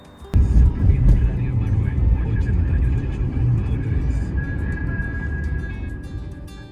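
A car drives along the road toward Málaga in Spain, heard from inside as a steady low engine and road rumble that holds at an even level, with no talking.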